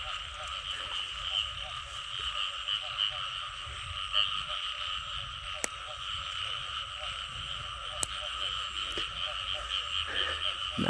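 Dense chorus of frogs croaking loudly at night, a steady high-pitched trilling din with occasional sharp clicks, no voices.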